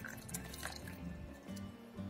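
Boiling water trickles and drips as it is mixed with fresh organic herbs to make tea, a soft, quiet liquid patter with small splashes in a calm room.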